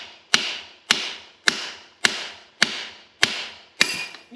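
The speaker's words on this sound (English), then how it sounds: "I need to hammer it with some more oomph" Hammer blows strike a fabricated truck part, six sharp metallic hits spaced about half a second apart, each ringing briefly before the next, close and loud with no talk.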